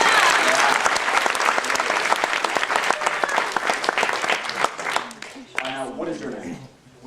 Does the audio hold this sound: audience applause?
yes